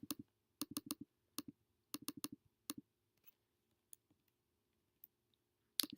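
Computer mouse clicks come in quick sharp pairs and small bursts, crisp and close, with a few isolated softer clicks later and a final cluster at the end; no talking.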